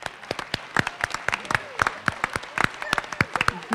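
Scattered audience clapping at an annual awards and recognition ceremony, a steady patter of individual claps from a moderate crowd.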